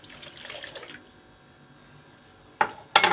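Milk is poured into a cup in a home kitchen: a soft liquid hiss at first, then a pause, then two short splashy bursts close by.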